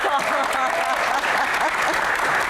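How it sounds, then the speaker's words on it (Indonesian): Audience applause at a Q&A event for a band, a dense, steady wash of clapping at close range with a few voices mixed in, running unbroken for the whole stretch. "Boleh tepuk tangan"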